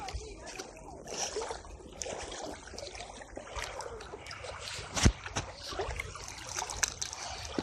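Water flows steadily near outdoor steps where people gather, with a continuous rushing wash, occasional splashes and one sharp knock, while voices talk over it throughout.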